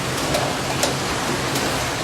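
Heavy rain and golf-ball-size hail pour down steadily during a storm in Islamabad. The roar is dense and loud, broken by a few sharper impact spikes.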